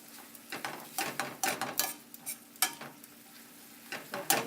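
Shallots caramelizing in a pan, a soft steady sizzle broken by repeated scraping and stirring strokes with a utensil against the pan, close and fairly quiet, with no talking.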